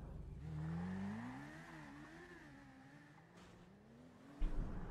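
A motor vehicle in a video game roars past, its engine pitch climbing and wavering as it speeds by, fading slightly before a sharp thump at the end.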